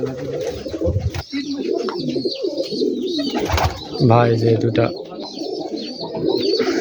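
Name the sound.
Rajshahi Giribaz pigeons cooing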